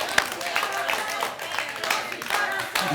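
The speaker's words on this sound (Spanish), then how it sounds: "Un aplauso Gracias. para Francesco." An audience claps for Francesco in a TV studio, with a burst of scattered applause that stays steady for a few seconds under a voice speaking.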